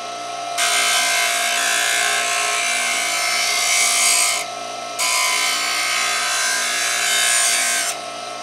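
Grinding the blade edge of a Stanley No. 5 plane iron gives a steady, bright rasping hiss in two long passes, each about four and three seconds, separated by a short break, close and loud with no talking.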